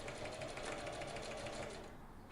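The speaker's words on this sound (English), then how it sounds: "Sew a row of stitches parallel to the fold to create the channel for the drawstring." Sewing machine stitching a channel parallel to the fold of a refashioned oversized men's shirt, a fast steady mechanical whir with rapid needle ticks, heard close before it slows and stops near the end.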